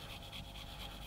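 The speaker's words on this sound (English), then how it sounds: "So sand these rubber road wheels." A coarse sanding stick rubs across the rubber road wheels of a 1/35 scale Leopard 2 A7 tank model, giving a close, quiet, rhythmic rasping with several light back-and-forth strokes.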